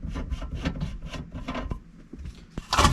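Plastic and metal scraping, rubbing and clicking as a car shifter knob and its pins are pulled off during a TH400 transmission and transbrake install, close and intermittent, ending in a louder rasp.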